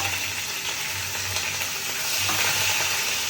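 Cumin, mustard seeds, curry leaves, chillies and a pinch of asafoetida sizzle steadily in hot oil for a Gujarati tempering, a close, continuous crackling fry with a faint stirring clatter.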